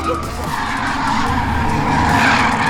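Loud, continuous tyre squeal from a car drifting at a night drift event, a sustained screech with engine roar beneath it, close and unbroken throughout.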